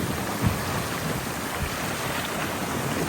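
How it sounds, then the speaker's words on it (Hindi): Loud rushing water of the Indus River during a storm in northern Pakistan, a dense constant roar mixed with wind rumble and a few low thuds, with no voices. "दरिया का पानी कितना शोर कर रहा है अभी।"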